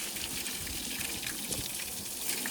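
Steady, close rush of running water splashing while a tractor is washed, continuous and even throughout with no voices.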